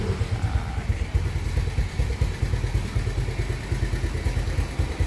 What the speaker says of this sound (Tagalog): Yan, sound check natin yan. Ayan yung makina yan.